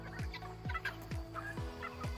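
A meat chicken inside a chicken tractor gives about five repeated, evenly spaced throaty calls, each dropping in pitch, close by over a steady outdoor background.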